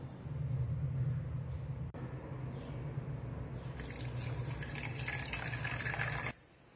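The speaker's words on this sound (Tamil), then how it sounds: "இதில் 1 டம்ளர் ஹாட் வாட்டர் விட்டு நல்லா கடைஞ்சிட்டு இதையும் அதில் வடிகட்டி எடுத்துக்கலாம்." Hot water pours steadily into a spinach soup, with a continuous splashing stream that brightens and grows fuller partway through, then stops abruptly near the end. The sound is close and moderately quiet.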